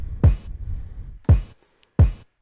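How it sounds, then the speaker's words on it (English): Three deep, booming kick drum hits in FL Studio, the first two a second apart and the third quickly after, each with a sharp thump and short decay. "And then I added this kick right here."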